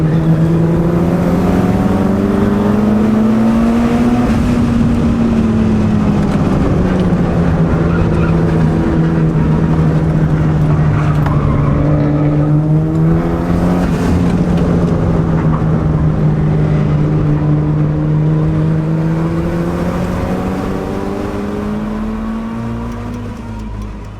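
A Mitsubishi Evo 9 on a racing lap at Pikes Peak International Raceway, heard from inside, its engine droning loud and close as the pitch rises and falls through gear changes and corners, fading slightly at the end.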